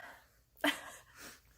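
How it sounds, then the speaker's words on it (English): A single sharp sneeze bursts out after a quiet breath, loud and close, followed by a softer exhale. "And I'm just gonna sneeze."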